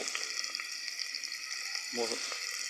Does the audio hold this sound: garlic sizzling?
yes